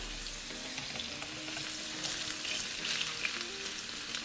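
Potatoes sizzle steadily in a hot pan while a utensil scrapes and stirs them now and then, close and fairly quiet.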